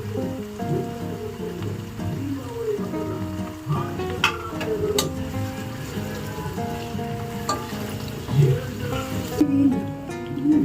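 Onions fry in a pan for biryani, giving a steady close sizzle with occasional stirring clatter, partly under muffled voices.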